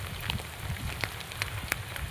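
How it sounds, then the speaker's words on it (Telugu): Rain falling steadily on a rider's raincoat and motorbike, a soft continuous patter punctuated by a few sharp drop impacts close by, with no talking. "సో వర్షం అయితే మంచిగానే పడుతుంది"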